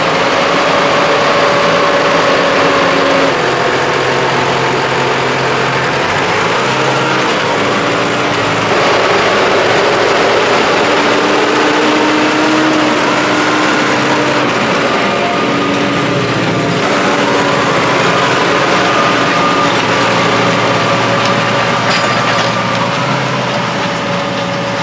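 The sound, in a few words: blue tractor engine pulling a cultivator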